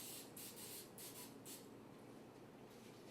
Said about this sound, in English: I'm gonna spray it over the sink so it doesn't get everywhere.